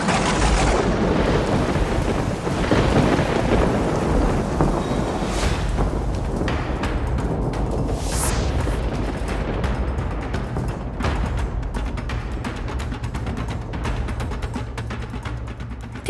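A thunderstorm with steady heavy rain rushes loudly and continuously, a long thunder rumble rolling through at the start before the downpour hiss carries on alone in a Bengali cartoon.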